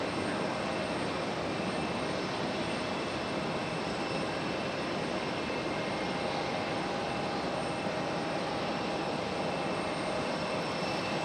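An American Airlines jet landing on runway 23 right at Raleigh Durham International: a steady, broad engine roar heard from outside, even and unbroken, with no voices.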